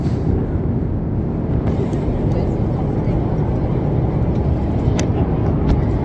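Steady, loud broadband roar of an airplane cabin in flight, constant and enveloping for the whole stretch with no breaks.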